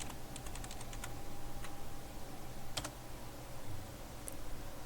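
Close typing on a computer keyboard: a quick burst of clicking keystrokes at the start, then scattered single key taps over a low steady room hum, with no voices.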